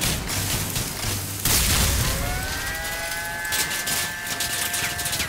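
A Breaker shotgun in a video game fires and overheats. Heavy booming blasts are followed by a long hissing, steamy whine with rising tones, all loud and continuous.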